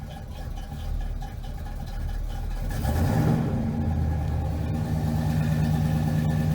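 A 1986 Chevrolet C10 truck idling after a cold start, a steady low engine rumble that grows a little louder midway and holds a smooth, even tone.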